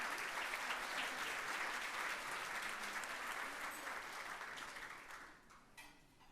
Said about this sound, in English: Let us again give an applause.